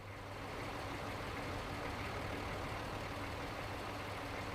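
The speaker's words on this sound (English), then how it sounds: "Where's me dump truck?" A dump truck engine in the video game Roadcraft rumbles steadily throughout, a continuous low droning idle with no voices over it.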